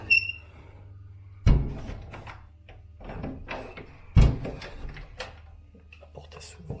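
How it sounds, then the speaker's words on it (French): A door in an abandoned Japanese building creaks open and won't shut, marked by two loud thumps and scattered knocks and rattles, with faint background noise between them. "La porte elle s'ouvre, elle veut pas se fermer"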